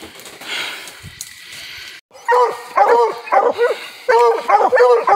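Coonhounds bark at a treed raccoon in an outdoor night hunt in Ohio, loud close repeated bays in short bursts after a brief quieter opening with faint voices and rustling.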